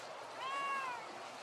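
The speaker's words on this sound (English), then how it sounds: "Can somebody get this cat?" A cat meows once near the microphone, a drawn-out rising and falling cry over a quiet background hiss with no talk.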